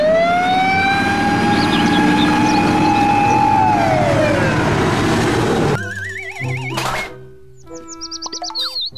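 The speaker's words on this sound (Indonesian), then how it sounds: "Mobil truk pemadam kebakaran." A loud fire truck siren holds a steady wailing tone, then drops in pitch, followed by quick electronic chirps and warbling beeps.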